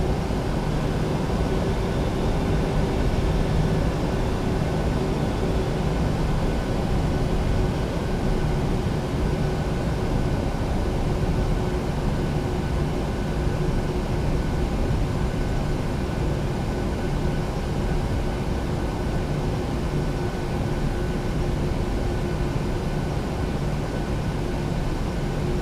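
An airliner taxis at an airport, heard as a steady, loud engine roar and broadband hum with a faint whine that holds level throughout. No talk is heard.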